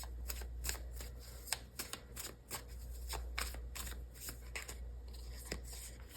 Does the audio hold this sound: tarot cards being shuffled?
yes